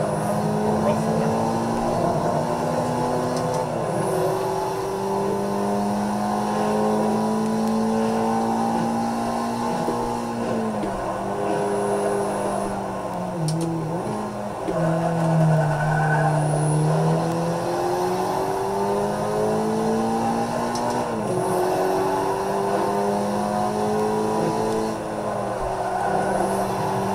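Race car engine in the Forza 5 driving game, a continuous loud droning whine rising and falling through gear shifts and revs for the whole stretch, with no pauses.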